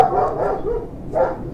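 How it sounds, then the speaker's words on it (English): A Doberman guard dog gives two deep territorial barks about a second apart, loud and close in a short burst. "she's barking. It's a territorial bark."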